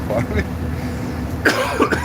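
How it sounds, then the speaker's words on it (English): A man coughing a couple of times aboard a Victoria Park bus in Toronto during a snowstorm aftermath ride, short harsh bursts close by over a low rumbling engine background. "The coughing came up on me."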